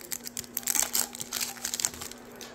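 Packs from 2023 Bowman retail blaster boxes are ripped open by hand, making quick, close bursts of crinkling and tearing foil wrapper in an irregular rhythm, with no talking.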